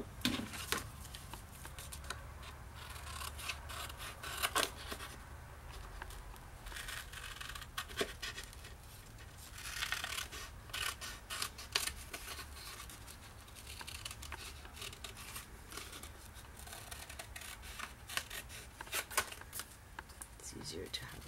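Scissors cut pink cardstock for a scrapbook paper bag card, making faint, close snips and paper rustles that repeat steadily under a person talking.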